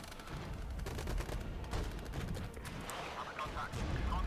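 Distant gunfire crackles across a Regiments battlefield, scattered shots and short bursts taking fire on a vehicle, fairly faint under ongoing battle noise.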